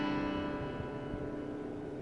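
A single guitar chord from the opening riff of a song rings out softly and sustains, fading gently over about two seconds with no talking.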